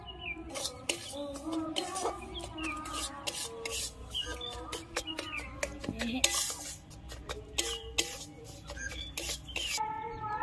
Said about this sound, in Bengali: ঘি দিয়ে একটুখানি নেড়ে নিয়েছি।